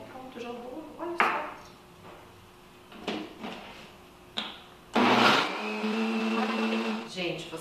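A kitchen blender mixes corn cake batter with a loud, steady whir toward the end, after scattered clicks and knocks, while someone talks.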